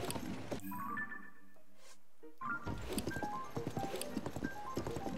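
A horse's hooves clip-clop along a path in Zelda: Tears of the Kingdom, a brief quiet gap breaking the trot before it picks back up as a quick, steady rhythm of close hoofbeats.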